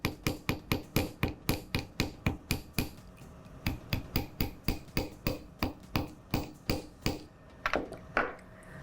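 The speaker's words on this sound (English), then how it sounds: "Just gonna turn it over and hammer on the other side." Small rhythmic hammer blows flatten wire for a leaf pendant: a quick, even run of sharp metallic taps, a short pause, then another steady series of strikes, close and fairly soft.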